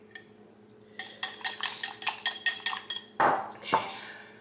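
Eggs are beaten briskly in a bowl for a breakfast sandwich, about a dozen quick rhythmic clinking strokes, close and fairly quiet, ending with a couple of louder knocks.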